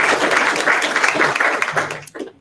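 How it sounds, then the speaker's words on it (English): Audience at a college STEM speaker series event applauding a speaker, a dense wash of clapping sustained for about two seconds before tapering off. "Please join me in giving LHC a big round of applause."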